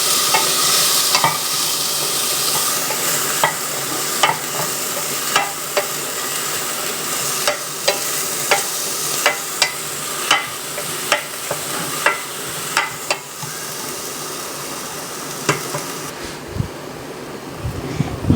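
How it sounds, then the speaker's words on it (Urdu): Cabbage, green peas and bell pepper stir-fried in a pan, a steady close sizzle with repeated sharp scrapes and clacks of the spoon against the pan in an irregular rhythm, with no voices. "یہ بند گوبھی ہے، یہ دیکھیے انہیں ہم تھوڑا سا کوک کر لیں گے."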